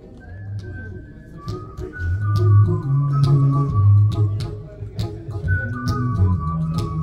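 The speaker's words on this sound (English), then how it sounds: "So a nice a cappella vocal and whistling and a really good sense of spaciousness." A recorded song plays through a Meridian active speaker, with a melodic whistled line gliding over a layered a cappella vocal backing that keeps a light rhythmic pulse, fairly loud and spacious.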